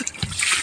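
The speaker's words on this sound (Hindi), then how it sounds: "जब मैंने पहला मग डाला ना पानी का" A mug of cold water splashes over someone bathing on a winter morning: one short, close splash and pour, fairly loud and quickly gone.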